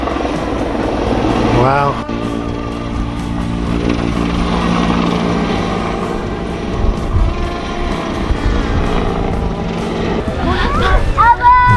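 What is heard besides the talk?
helicopter taking off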